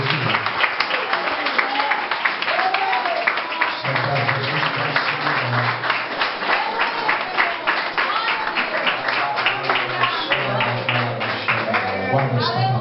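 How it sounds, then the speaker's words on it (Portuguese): A church congregation claps during a family worship service, a steady dense patter of many hands continuing throughout, with voices and singing mixed in underneath. "As palmas que exaltam o nome de Jesus."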